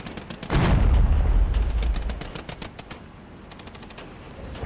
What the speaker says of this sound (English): Let's have a look at our units firing away.